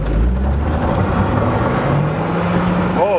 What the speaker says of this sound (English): Oh yes, that turbo works good.